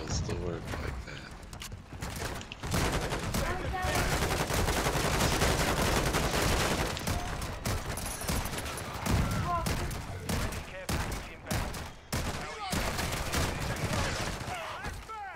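Heavy gunfire in a shield battle in Call of Duty: Modern Warfare II: dense, loud bursts of shots with constant action noise, and players talking over the fight throughout.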